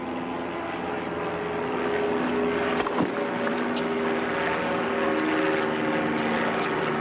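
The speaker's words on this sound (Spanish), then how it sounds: "Están esos aviones, ¿eh?" Propeller airplanes drone overhead during a tennis quarterfinal in Scottsdale, a loud sustained engine roar that swells and holds across the whole stretch with no commentary over it.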